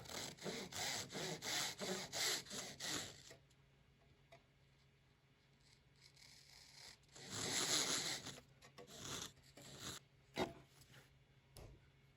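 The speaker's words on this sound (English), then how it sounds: "It's pretty simple to just do it with a handsaw as you go." A handsaw cuts wooden lap joints for a simple lantern, giving rapid rhythmic rasping strokes for about three seconds, then a quiet pause and a second burst of sawing with a few sharp knocks near the end; no voices.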